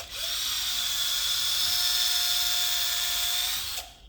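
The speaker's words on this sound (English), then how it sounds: "I just took a regular drill bit and drilled it through here." Drill bit boring through the rubber edge of a John Deere 44 inch snow blade, a steady high-pitched motor whine held for about three and a half seconds close by, then cutting off abruptly.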